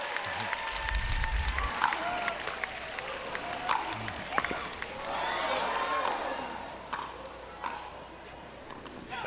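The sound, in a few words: crowd applauding after a pickleball point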